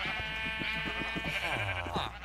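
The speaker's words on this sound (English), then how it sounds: "Lots of sheep." Sheep bleating in Minecraft, a couple of wavering, nasal bleats up close with a soft lower bleat trailing off, against faint game background.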